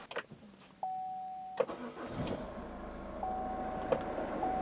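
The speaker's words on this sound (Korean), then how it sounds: "시동 한번 걸어볼게요." A family camper van with about 158,826 km on it starts from a smart key: a few dashboard chimes, a brief crank as the engine catches, then a smooth, steady idle heard close from inside the cabin. No talking.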